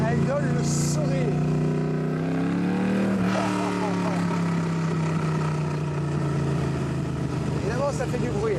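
An AC Cobra's engine runs loud and steady throughout, with a shifting pitch and rev changes near the middle, and voices talking over it in places.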